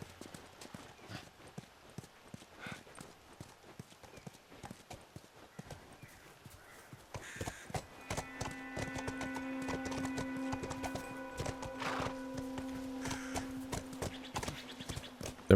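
Horse hooves walking at a steady clip-clop in the video game The Last of Us, a regular rhythm of close, moderate hoofbeats that continues as a tonal, humming texture joins partway through.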